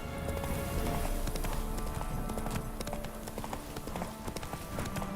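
Roach the horse galloping in The Witcher 3, a fast, rhythmic clip-clop of hooves close and steady throughout, with a voice speaking over it.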